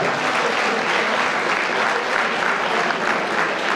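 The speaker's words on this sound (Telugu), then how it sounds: "A big round of applause." An audience at a city traffic awareness meeting applauds the police department with dense, sustained clapping from a large crowd, loud and continuous throughout with no talk over it.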